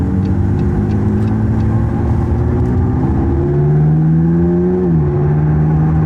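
A McLaren 675LT engine hums loudly and steadily in automatic mode, its pitch climbing through a rev before dropping as the gear shifts, heard close from inside the cabin.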